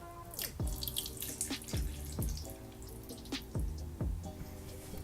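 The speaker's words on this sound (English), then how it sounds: "we're going to slowly add some water and see how much water this thing actually holds" Water poured slowly from a measuring cup into a mini desktop aquarium, a close splashing and gurgling stream broken by repeated bubbly plops and drips.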